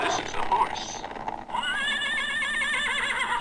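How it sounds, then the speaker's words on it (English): A horse neighs, played back from a phone or device, with a wavering whinny under people talking, followed by a long sustained warbling call. "This is the horse."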